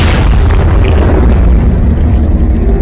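A pirate-assault explosion from the third chapter of the Conan cartoon: a loud, sustained, deep rumbling boom that fills the whole moment without a pause.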